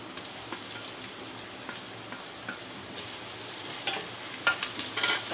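Onion, ginger and garlic frying in oil, a soft steady sizzle with occasional stirring scrapes and a few sharper crackles toward the end, close and without talk.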